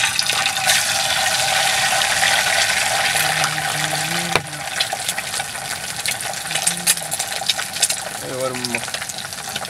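Eggs dropped into hot oil set off a loud, steady crackling hiss that fills the whole stretch, with a few short spoken words over it and a sharp pop midway.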